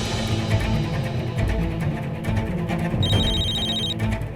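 A telephone rings amid a loud, busy indoor scene in a Hindi drama, its bright trilling tone surfacing for about a second near the end over a dense backdrop of music and ambience, without speech.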